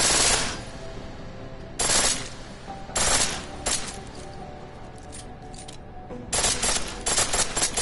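Bursts of automatic gunfire from the video game Deus Ex: Mankind Divided, several loud rapid volleys separated by short pauses, with a long sustained burst near the end.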